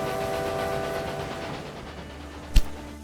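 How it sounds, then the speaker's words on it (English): A heavily loaded grain freight train climbs a steep grade in Railway Empire 2, a steady rumbling engine drone with a brief loud thump near the end. "It does sound like it's struggling a little bit up there. But it is going. It is a full train full of grain and wheat and things."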